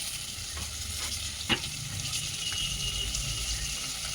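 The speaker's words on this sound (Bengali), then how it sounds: "এখন মাছের মাথাটা ভাজা হয়ে যেতেছে" A fish head coated with turmeric and salt fries in a pan, a steady sizzle broken by a few stirring scrapes and one sharp clink near the middle, with no speech.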